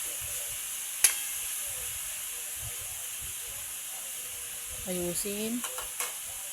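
Adobong sitaw with talong sizzles softly in a pan and is stirred, with a faint steady hiss, a sharp clink early on, and brief scraping and a spoken word near the end.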